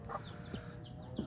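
A small flock of about twenty chickens clucks softly with a few short calls, close but faint, in a quiet outdoor setting.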